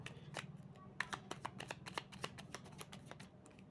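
A deck of cards shuffled and handled up close, a steady run of rapid crisp flicks and riffles over a low background hum, with no talking.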